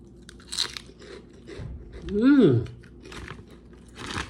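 Someone bites into a crunchy chicharron (pork rind) at a Smyth Chicago pho meal, making one loud, close crunch mid-clip, with faint mouth and voice sounds around it.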